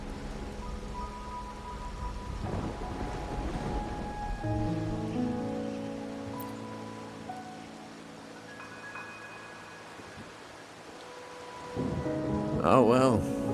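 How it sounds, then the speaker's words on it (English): Steady rain patters on surfaces in the video game Wuthering Waves while low rolling thunder rumbles through, with a louder crack of thunder near the end. "Ragunna's rain is a bad omen"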